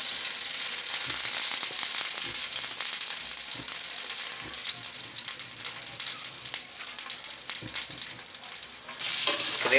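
Bitter gourd sizzling steadily in hot ghee in a frying pan, a dense continuous hiss close up with occasional stirring clinks throughout.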